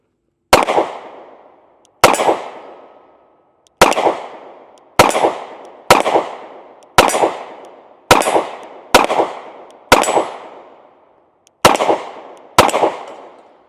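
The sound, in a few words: gunshots from Smith & Wesson Bodyguard 2.0 .380 pistol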